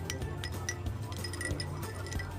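A spoon stirs milk tea of tea and fresh milk in a glass, giving a run of light, quick clinks against the glass in irregular rhythm, close and fairly soft.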